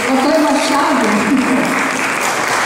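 Audience applause at a cultural heritage ceremony of a Brazilian letters academy, steady clapping throughout under a voice speaking over it.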